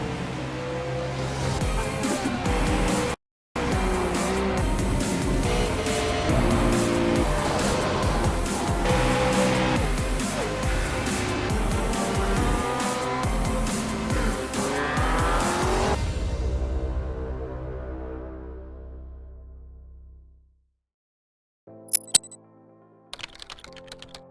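Race cars at Brands Hatch in the iRacing sim racing game roar loudly with revving engines and shifting tones. A brief cut interrupts the sound, which then fades to quiet, with a few clicks at the end.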